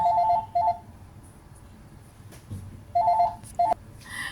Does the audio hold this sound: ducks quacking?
no